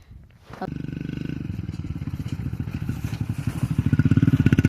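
A farm tractor engine rumbles to life after a brief quiet moment, then settles into a steady, rhythmic chugging that grows gradually louder and more pronounced. It is heard alone and close by.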